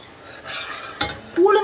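A brief scrape and clink of a utensil stirring rice in a cooking pot of ragi porridge, followed by a short sizzling hiss.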